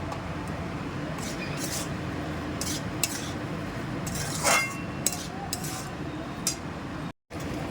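Banana flower vegetables sautéing in a pan with ginger and garlic, soft scrapes and light clinks of a spatula against the metal over a low frying hiss, while a voice talks throughout.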